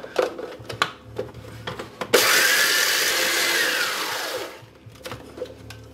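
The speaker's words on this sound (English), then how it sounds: "Alright, now the food processor." A food processor, likened to an oversized coffee grinder, starts up abruptly and whirs loudly and steadily for about two seconds before winding down, with clatter and handling noises before and after in a cabin kitchen.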